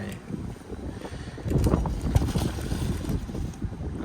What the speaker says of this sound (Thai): วันนี้ลมแรง